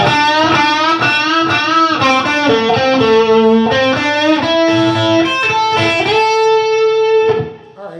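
Loud distorted electric guitar plays a short bluesy phrase, quick notes and bends, closing on a held note that cuts off abruptly.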